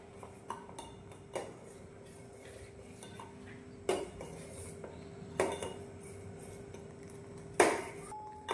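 A spoon stirs milk powder in a metal pan for homemade ice cream. Soft scraping runs underneath, with a few sharp clinks and knocks against the pan at irregular intervals, and the clatter stays quiet and close.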